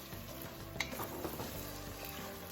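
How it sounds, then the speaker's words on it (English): Onions and garlic sauté in a pan for chicken and dumplings, producing a faint, steady sizzle with a soft tick or two and no voices. "onions and garlic sauteing"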